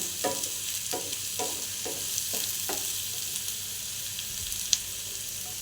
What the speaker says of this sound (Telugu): ఆయిల్ హీట్ అయిన తర్వాత ఆనియన్స్ వేసుకొని ఆయిల్ గోల్డెన్ బ్రౌన్ వచ్చేంత వరకు ఫ్రై చేసుకోండి లో ఫ్లేమ్లో.